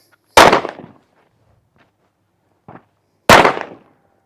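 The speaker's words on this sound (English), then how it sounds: "I'm going to shoot at the human silhouette" Two sharp, loud pistol shots from a Sig P365 fired at a human silhouette target on a range, about three seconds apart, each with a short echoing decay, and a faint small click between them.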